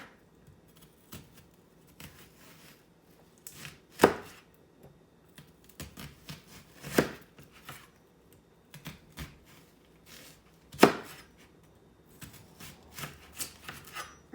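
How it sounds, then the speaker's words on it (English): Knife dicing an onion on a cutting board, sparse crisp chops and taps spaced irregularly with a few sharper cuts, close and fairly quiet. "And then I'm going to cut them in little,"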